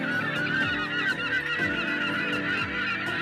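Migratory birds fill a Thane waterside with dense, overlapping goose-like honks and calls, a close flock calling continuously with no voices.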